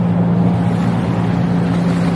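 A motorized bangka boat travelling on a river, its engine droning steadily and loudly at close range with wind rushing past the microphone.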